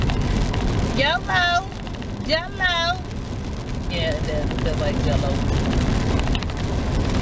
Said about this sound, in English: I cannot believe it's raining like this.